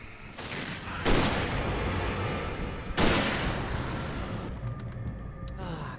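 Shotgun blasts in the Alan Wake Remastered video game, two loud booming shots a couple of seconds apart over a dense rumbling wash of game noise and ambience.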